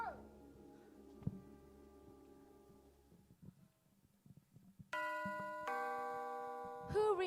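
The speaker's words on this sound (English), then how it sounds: "Who rang that bell?" A doorbell rings at the gate of the Emerald City, a bright multi-tone chime that starts loud and abruptly, then holds sustained ringing tones after a stretch of quieter rumble and clatter.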